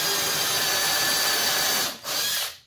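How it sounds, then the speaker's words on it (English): A power drill runs at full speed boring a dowel hole in wood through a drilling jig guide, a loud close steady whine that briefly dips near the end, then stops. "Drop my drill bit in the guide."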